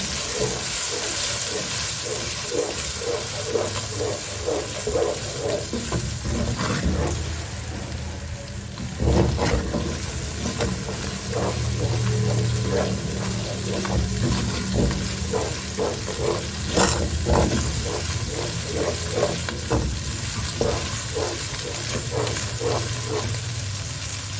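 Shinwari chicken fries in a pan with a loud, continuous sizzle and hiss over a long stretch, broken by repeated scraping and clattering strokes of stirring, with no talking.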